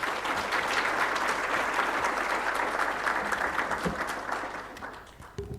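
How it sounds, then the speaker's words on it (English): Colleagues at a mining engineering partnership event give their dean a warm round of applause, sustained hand clapping that gradually thins and fades toward the close. "can you give your dean a very warm round of applause?"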